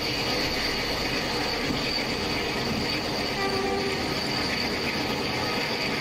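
A WDG3A diesel locomotive horn in the MSTS/Open Rails train simulator blares steadily over a loud, constant engine rumble, sustained throughout with no pauses.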